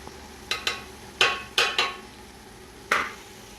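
Spices go into a pan and get stirred for chicken biryani: about six distinct clanks and scrapes at irregular intervals, each ringing briefly before fading, close up with a soft background and no talk.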